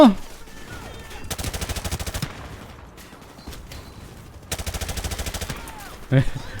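Two sustained bursts of automatic gunfire in Call of Duty: Modern Warfare Remastered, with scattered single shots between them and a brief voice at the start and end.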